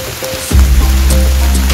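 Heavy rain pours steadily at the foot of Mount Slamet in Tegal Regency on a February night, a dense close hiss with a low rumbling wash that swells suddenly about halfway through and stays loud.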